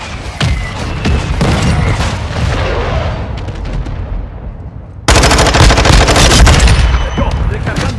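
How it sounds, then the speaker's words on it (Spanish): A mortar strike killstreak in Call of Duty: Modern Warfare II brings dense bursts of gunfire and heavy booms, with a sudden loud barrage of blasts erupting midway and continuing, close and overlapping with voices. "Ataque de mortero lanzado."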